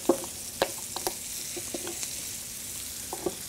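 Turkey tenders frying in a hot pan give a steady low sizzle with a few sharp crackles and pops, close and moderately quiet, with no voices.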